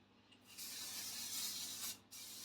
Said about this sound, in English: So I'm just going to spray my pan.